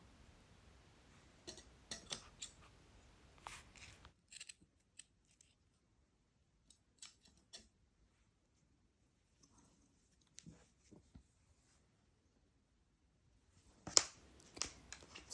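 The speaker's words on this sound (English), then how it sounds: "you're just going to cut these extra pieces of yarn" Scissors snipping leftover pieces of yarn on a crocheted Christmas tree ornament with beads, a few faint close clicks and snips in small bursts separated by quiet stretches.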